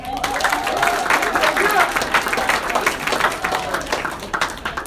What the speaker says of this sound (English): everyone give a big round of applause, early birthday for Luke